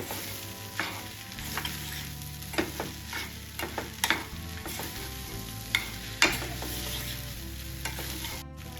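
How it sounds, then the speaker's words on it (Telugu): Tomato rice being stirred in a pan with a spoon, repeated scraping strokes at an uneven rhythm over a soft steady sizzle, close and moderately loud with no talking. "ఒక ఫైవ్ మినిట్స్ ఇలా కలుపుకుంటూ ఉండాలి"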